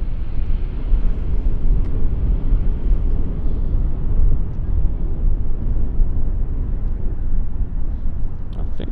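An airliner landing on runway 27 at Schiphol Airport, a continuous low roar of engines under steady wind buffeting on the microphone, loud and unbroken throughout with no voices.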